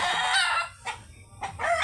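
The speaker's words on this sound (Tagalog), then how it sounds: "Ito yung mga manok na pansabong" A fighting gamecock crows loudly nearby, followed by a couple of short clucks and another crow starting at the end.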